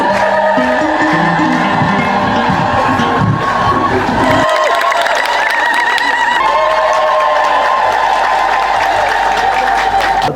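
A large crowd at an Ethiopian Timket celebration in Dila claps, cheers and ululates loudly, with high trilling voices over a dense, continuous roar of people.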